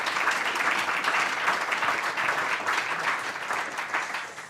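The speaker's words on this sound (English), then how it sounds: "Can we have a round of applause for our panel" An audience applauds a panel at the close of a sports data science debate in Newcastle, a steady wash of many hands clapping at moderate volume that holds for several seconds and begins to thin out at the end.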